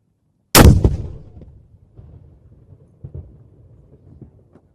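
A single loud artillery blast from a gun salute at King Charles III's proclamation ceremony booms out at 0.5 s, with a long rolling decay and faint outdoor ambience afterwards.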